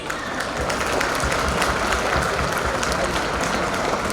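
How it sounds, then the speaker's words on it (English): An audience at a school prize-giving ceremony applauds the teachers: dense, continuous clapping from a large crowd that holds steady and loud throughout. "A big round of applause for our teachers"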